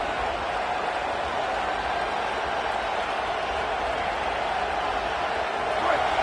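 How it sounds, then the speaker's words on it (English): A football stadium crowd at a Sooners vs Wolverines game roars steadily for its defense, a broad, even wash of cheering that holds at the same loud level from start to finish. "this crowd imploring its defense to stand firm"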